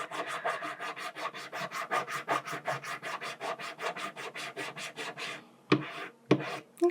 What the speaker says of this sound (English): Just get a slab of wax out and pre-file it down